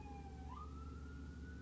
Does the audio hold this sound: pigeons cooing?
no